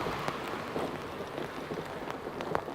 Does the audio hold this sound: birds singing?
no